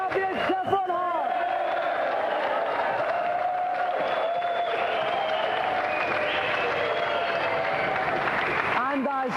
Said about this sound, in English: A round of applause for our champion, Chevron Hart!